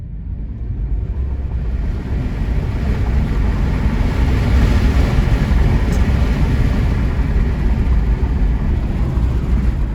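A Tesla Model 3 pulls away hard from standstill, a rising broadband roar of tyre and road noise with wind rush building steadily from inside the cabin, loud and unbroken.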